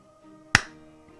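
A single hand clap for a delay test, one sharp, short crack in a quiet room with a brief ring-off, heard alone with no speech.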